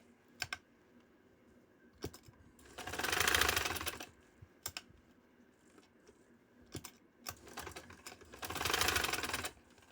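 A sewing machine stitches a trouser sleeve in two sustained whirring bursts, separated by light clicks and handling knocks of the fabric and machine, recorded close and fairly quiet.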